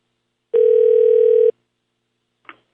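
A steady telephone dial tone sounds loudly for about a second before cutting off, followed by a brief faint click.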